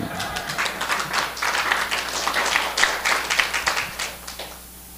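A congregation applauds inside a church in Pohang during a sermon and testimony service, a steady wash of mid-distance clapping that swells and fades over several seconds, with a faint voice underneath.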